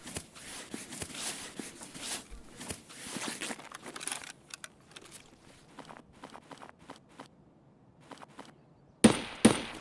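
Gunfire in Escape From Tarkov, sounding as bursts of sharp shots and scattered cracks that thin out into sparse pops, then a loud burst of close shots near the end.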